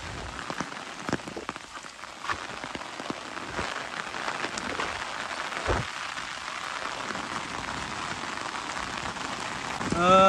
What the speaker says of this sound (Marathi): आणि कंटिन्यू पाऊस चालू आहे, कंटिन्यू।